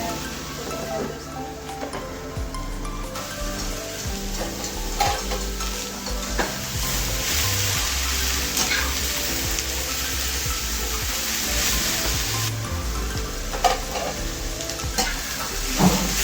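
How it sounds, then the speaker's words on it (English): Cumin seeds frying in a pan, a continuous close sizzle with frequent stirring clatter and scraping throughout. "Let it be fried."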